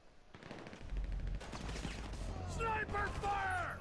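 Sniper and automatic gunfire in Grand Theft Auto V crackle in rapid bursts through a noisy firefight, with voices calling out over the shots.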